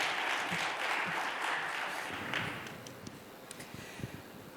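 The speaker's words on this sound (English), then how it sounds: "Please do give them a round of applause." Applause from a conference audience after panelists are introduced at a genomic diagnostics panel session, steady and moderately loud at first, then thinning into scattered individual claps as it fades.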